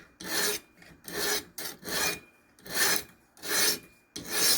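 Knife blade drawn over an oiled 80 grit stone on a Ruixin Pro RX-009 sharpener, a close, steady series of about seven rasping strokes in an even rhythm.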